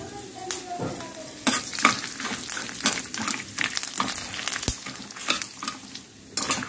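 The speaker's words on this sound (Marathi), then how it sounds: "याला पण मस्त आपण फ्राय करून घ्यायचं 2 मिनिट।" Chili, garlic and curry leaves frying over a low gas flame in a pan, soft sizzling with intermittent scraping stirs and clinks of a spoon close by.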